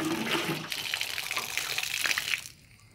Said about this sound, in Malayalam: ഞാനിതൊന്ന് കഴുകി വൃത്തിയാക്കി എടുക്കാൻ പോകും